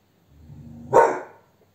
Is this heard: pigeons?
no